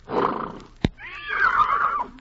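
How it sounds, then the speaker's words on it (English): A horse whinnies loudly and close at hand, a long wavering neigh that falls away at the end, preceded by a breathy snort and a single sharp thump. "Reginald, my wonder horse, shares my admiration."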